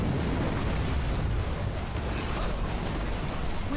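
An enemy structure blown apart in Halo Wars 2, a dense rumbling explosion with crackling debris, loud and sustained across the whole moment.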